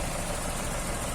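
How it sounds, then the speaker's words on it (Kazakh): A 1995 Toyota RAV4's four-cylinder engine idles in a steady, even drone, close and constant, with broadband mechanical noise and no voices. "Мотор міне."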